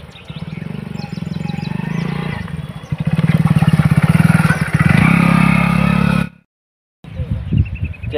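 A motorcycle engine runs loud and close with a rapid, pulsing idle, then revs harder before cutting out abruptly, and a short burst of engine noise returns after a second of silence.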